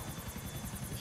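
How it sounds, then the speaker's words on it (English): Helicopter in Grand Theft Auto IV, a steady rotor thump with rhythmic low-frequency beating and engine whine throughout, close and continuous. "helicopter"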